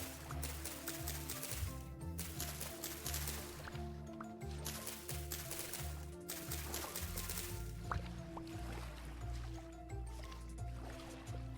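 Flowing water ambience in the video game Vintage Story, soft continuous trickling and liquid drips with faint sloshing, quiet and steady throughout.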